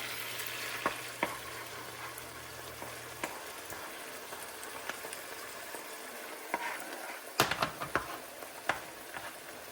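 Two eggs scramble and fry in a pan next to shrimp and riced cauliflower, a faint constant sizzle with scattered clicks and scrapes of a utensil near the end.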